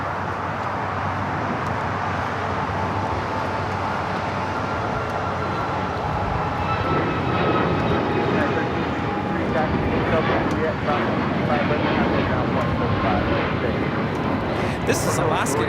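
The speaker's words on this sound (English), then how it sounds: "This is Alaska Airlines 997 taking off to Los Cabos on the MAX 9" Alaska Airlines Boeing 737 MAX 9 jet taking off at Los Angeles airport, a steady broad engine roar that builds and stays loud through the whole stretch, with people talking over it.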